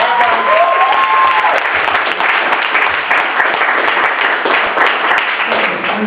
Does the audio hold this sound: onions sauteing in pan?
no